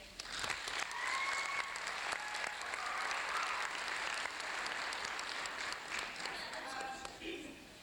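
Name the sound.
audience applause at a school assembly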